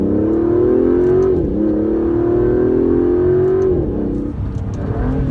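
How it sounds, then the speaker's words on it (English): Aston Martin DB11 with turbocharged engine under hard acceleration, a loud rising engine note with a couple of shift dips and smooth climbing pitch, heard from inside the car without talk. "if you really floor it, you can feel the turbos kick on"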